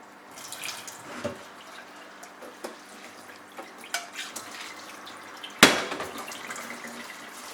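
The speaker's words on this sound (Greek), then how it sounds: "Να ξεπλένεις το και λίγο. Ναι, με κρύο νερό." Something being rinsed under a cold running kitchen tap, a soft trickle of water with small drips and clinks, then one sharp clatter of a dish or glass, close by with no talk.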